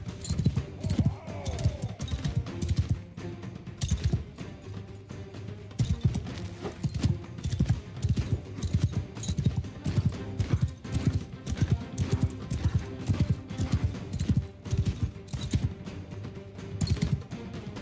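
Video game horse hooves clip-clop in a steady, busy rhythm for the whole stretch, fairly close, with a brief whinny near the start.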